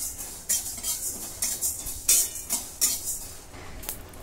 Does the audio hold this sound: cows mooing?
no